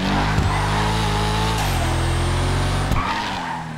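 A Bravado Velir car in GTA racing at high revs, its engine loud and close with tires skidding and squealing across the whole stretch, the pitch dipping briefly between gear shifts.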